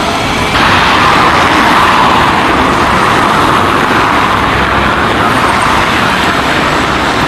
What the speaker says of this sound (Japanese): 車が多いです、バイクとかね。